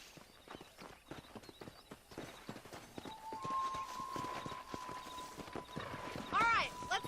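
Horse hooves clip-clop steadily in a Red Dead Redemption ranch scene, a quick even rhythm of close, moderately loud hoofbeats, with a sustained tone and a brief whinny-like sound toward the end.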